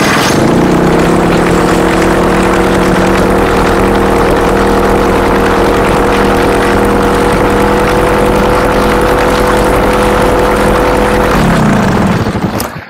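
A carbureted engine runs steadily and loudly with a droning, harmonic tone close by, then cuts out abruptly near the end as it dies, with no talking.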